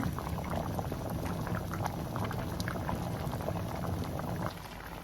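Cassava pieces simmer in thick sugar syrup, bubbling at a steady, dense boil close by; the seething holds constant before easing slightly near the end, with no voices.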